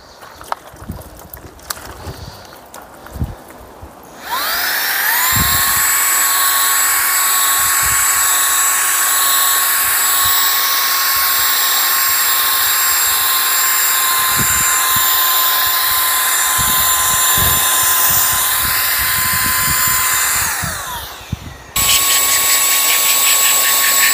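A small cordless mini blower whirs loudly and steadily with a high-pitched motor whine for most of the clip, starting and stopping abruptly.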